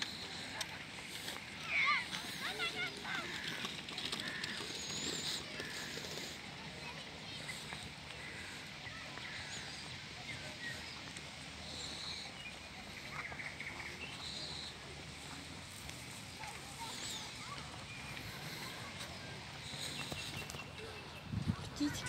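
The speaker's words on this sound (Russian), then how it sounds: "Птички поют, классно." Small birds chirp faintly now and then in a grove park in Rostov-on-Don, heard far off over a hushed outdoor background and under people talking.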